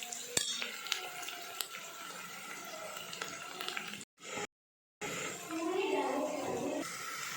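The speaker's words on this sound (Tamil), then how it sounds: "வெங்காயத்தை ஒரு 5 நிமிஷம் நல்லா வதக்கிக்கலாம்." Onions sautéing in a pan with low frying and stirring noise, scrapes and utensil clinks, broken by a brief silent gap and then a steadier sizzle.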